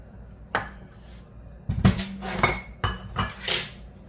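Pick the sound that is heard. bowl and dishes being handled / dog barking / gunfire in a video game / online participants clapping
bowl and dishes being handled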